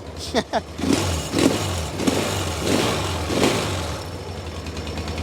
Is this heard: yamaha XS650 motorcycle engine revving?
yes